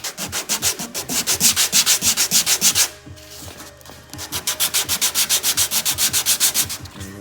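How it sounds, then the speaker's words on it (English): 80-grit sandpaper takes a 2004 Nissan Maxima trunk down to bare metal in loud, rhythmic back-and-forth rasping strokes, close up. One brief pause comes midway, then the steady scrubbing resumes. "Essentially what we're gonna do is pretty much sand down to the metal."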